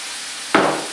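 Previously cooked mushrooms with their juices hit a hot pan for chicken Marsala, a sudden loud sizzle bursting in after quiet background hiss and tapering slightly as it continues.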